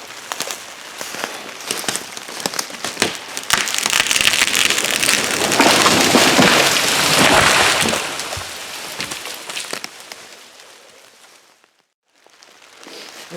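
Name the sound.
rain falling in the woods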